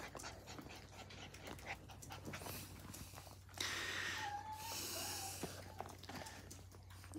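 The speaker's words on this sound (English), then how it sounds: "Are you whining because you're all by yourself?" A golden retriever puppy whimpers and pants close by, with soft snorting and high thin whines rising over a steady background hum; no speech.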